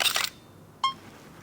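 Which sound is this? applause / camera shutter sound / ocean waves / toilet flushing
camera shutter sound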